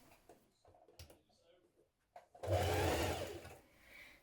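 A sewing machine stitching a one-centimetre sleeve seam on a tiered dress runs in a loud, steady burst for about a second after quieter handling sounds and speech.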